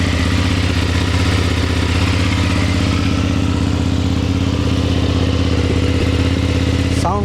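A 2026 BMW F800 GS motorcycle engine runs steadily up close, a loud, even mechanical drone that holds without a break and with no talking.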